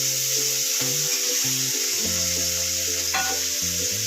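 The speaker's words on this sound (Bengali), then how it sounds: "তো মাছটা একটু ভাজা ভাজা হোক," Fish fries in hot oil in a home kitchen, giving a loud, steady, continuous sizzle throughout with no talking.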